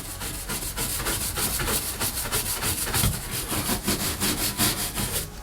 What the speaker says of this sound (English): we'll start scrubbing these off first to see when it actually works